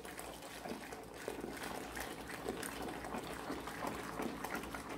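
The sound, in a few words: pouring a litre of water into fabric softener base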